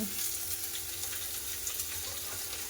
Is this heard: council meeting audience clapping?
no